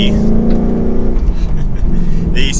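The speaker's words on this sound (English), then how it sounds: "All right guys, so we are setting off now in the Mustang GT." A 2021 Ford Mustang GT Premium coupe with a six-speed manual sets off, its V8 engine rumbling loudly and building as it accelerates from inside the cabin, with brief talk over it.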